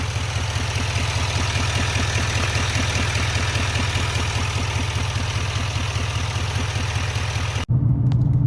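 Truck engine on a 2017-2024 GM 2500HD idling steadily while warming up after a CCV reroute kit install, a loud continuous rumble with an even pulsing rhythm close by, cutting off abruptly near the end.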